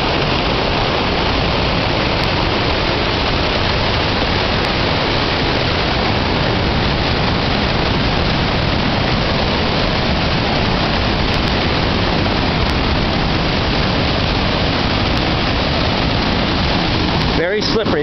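Loud, steady roar of rushing water from Duchesnay Falls in North Bay, swollen by heavy rain, like a close waterfall torrent, continuous broadband noise throughout with no voices.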